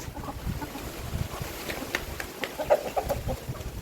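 Chickens from a small village flock of about fifteen birds cluck faintly and intermittently outdoors, soft scattered calls over a constant wind-like hiss.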